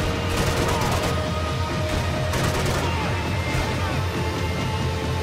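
Dense bursts of gunfire from the video game Max Payne 3 crack repeatedly in close succession, loud and continuous with several sharper volleys standing out.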